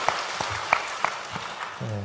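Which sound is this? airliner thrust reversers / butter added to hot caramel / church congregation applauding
church congregation applauding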